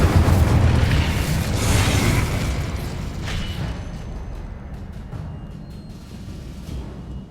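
A fire spell in Hogwarts Legacy erupts with a loud, booming whoosh of flame that rumbles heavily at first, then fades into a crackling, decaying burn over several seconds.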